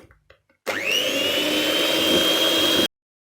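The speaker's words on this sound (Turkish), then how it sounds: "Mikserimi çalıştırıp hepsini bir çırpıyorum." An electric hand mixer whisking cake batter whirs loudly and steadily for about two seconds, starting abruptly and cutting off cleanly, with a high whine over a buzzing motor.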